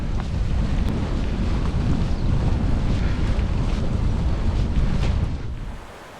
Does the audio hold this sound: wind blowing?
yes